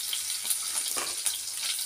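Garlic frying in a pan for curry leaves chutney, a steady close hiss and sizzle with small crackling pops throughout.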